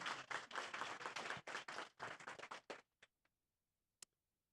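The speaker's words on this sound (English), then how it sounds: "A big round of applause for" A few people clapping for a sponsor at a Kubernetes meetup: a short, fairly close round of applause that thins out and stops after about three seconds, followed by a couple of lone claps in near silence.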